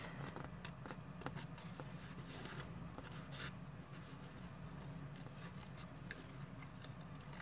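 Scissors snip through gold matte embossed paper between the embossed honeycomb pattern while crafting trading cards, a run of crisp close cuts with small ticks over a steady low hum.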